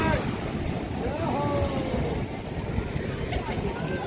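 Waves surging at Gomti Ghat in Dwarka, a continuous loud wash of surf and wind buffeting the microphone, with a faint voice briefly audible.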